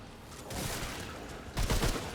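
In the video game Remnant 2, an explosion lands as a burst of rough crackling blasts, then a louder second burst near the end, with no speech over it.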